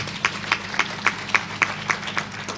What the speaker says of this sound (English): Can we clap for them for that?